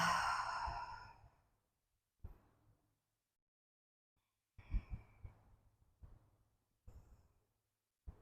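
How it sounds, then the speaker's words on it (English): A single deep breath in and out during a yoga session, a long, fairly loud exhale at the start, followed by several faint, short breathy sounds and soft movement noises in a quiet room. "taking a full deep inhale and a full deep exhale"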